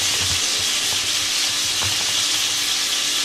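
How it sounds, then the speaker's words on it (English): Flipped burger patties for patty melts sizzle and crackle steadily in a hot pan, a close, continuous frying hiss with faint scraping underneath. "I just flipped the burgers, the patties."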